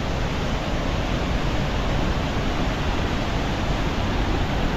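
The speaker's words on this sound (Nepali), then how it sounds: "ल यहाँ दुईवटा खोला छ" A mountain river in Northern Gorkha rushes in a steady, dense roar of flowing water, loud and unbroken throughout, with no voices.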